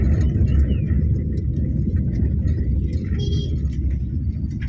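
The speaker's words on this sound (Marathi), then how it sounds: "मागे रिक्षा आहे" An auto rickshaw engine rumbles close behind on a Konkan road in Lanja during monsoon weather, a steady low drone filling the whole stretch with no talk over it.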